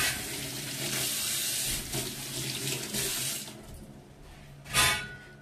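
Water runs steadily from a kitchen tap while something is rinsed under it. The flow is close and continuous and swells into a louder splash near the end.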